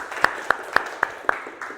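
Five or six sharp, evenly spaced claps ring out in a classroom, fairly faint and sparse, as if only one or two people are clapping.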